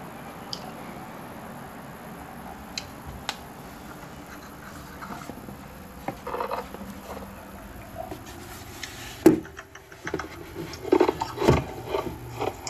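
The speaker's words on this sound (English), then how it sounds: "I hear you chomping on ice" Ice is being chewed close to a microphone, with irregular crunching bursts that start sparse and faint and grow louder and more frequent toward the end.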